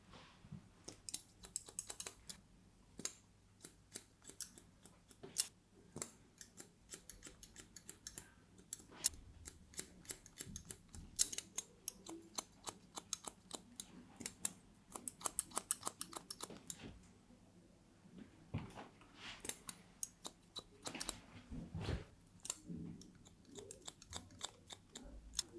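Scissors snip in quick, crisp bursts while point cutting the ends of long hair during a big haircut, a close, dry clicking rhythm running steadily with short pauses and no talk.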